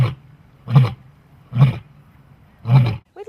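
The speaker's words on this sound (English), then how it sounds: "some keepers have even heard her start to roar" Liger at a big cat sanctuary roaring in three deep, loud, evenly spaced bellows, each a heavy breathy burst close by with short quiet gaps between.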